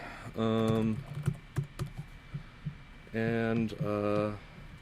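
Computer keyboard keys clatter in quick, irregular taps while a password is entered, close and fairly quiet, with brief bursts of a voice before and after the typing.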